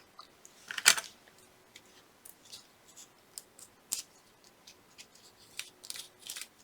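Scissors trimming craft tape while working on a scrapbook page layout: a series of small, close, crisp snips at an uneven pace, including one sharper cut near the start, set against a quiet room with no talking.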